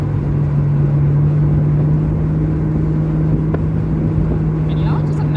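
Steady engine drone and road rumble from inside a Ford Mustang convertible cruising with a group of Mustangs, loud and even throughout with a constant low hum and no speech.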